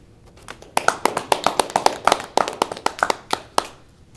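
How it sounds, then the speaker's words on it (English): A small audience greets a speaker at a talk on social entrepreneurship with a thin, uneven smattering of hand claps, sharp and close, fading out after a few seconds. "That smattering of applause"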